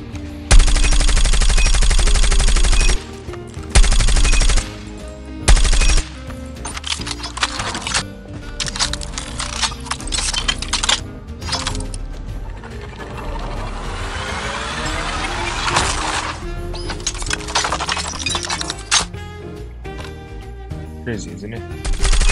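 The Mythic Grau fired in a video game training room, loud sustained bursts of shots with heavy low thumps at the start, then continued rapid fire while a person talks over it.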